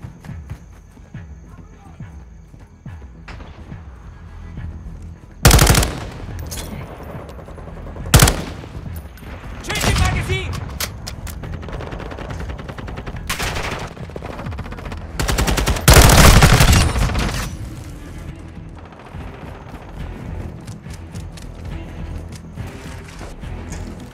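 Gunfire in a Call of Duty: Modern Warfare II team deathmatch: sharp, loud shots and short bursts crack out irregularly over continuous battle ambience.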